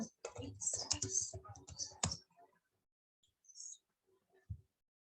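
Computer keyboard typing, a quick burst of clicking keystrokes while entering a PHP command in a web browser, followed by a few scattered, fainter taps in an otherwise quiet room.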